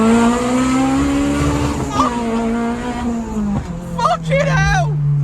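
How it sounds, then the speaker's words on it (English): A K20-swapped Peugeot 205 hatchback accelerates hard on a road test drive, its engine droning loud and steady from inside the cabin, with voices talking over it toward the end. "it's not often I'll make a point of going out on Richard's test drive in the cars"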